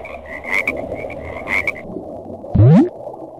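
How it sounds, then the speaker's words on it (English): Frog croaking alone: a couple of short raspy calls early on, then one loud, close, rising croak near the end over quiet background. "Life cycle of a frog."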